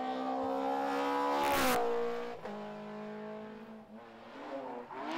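BMW M3 race cars in a Belgian Racing Car round at Omloop van Vlaanderen roar past with loud, revving engines, a sharp upshift sweep and a close pass-by peak before fading and rising again.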